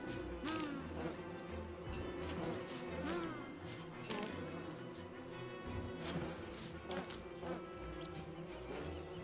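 Bees buzzing in the survival video game Don't Starve Together, a steady layered insect drone with fluttering pitch that continues throughout under game sounds.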